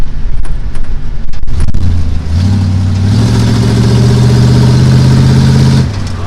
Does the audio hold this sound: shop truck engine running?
yes